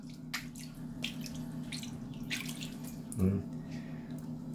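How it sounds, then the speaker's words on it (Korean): Cold water is sprayed onto a pet parrot during a bath, giving soft splashing spurts under a quiet, murmuring voice. "물 더 뿌려줄까?"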